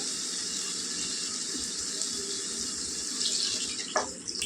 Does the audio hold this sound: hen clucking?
no